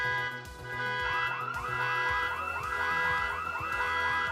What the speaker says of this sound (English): Why did the house alarm get tripped?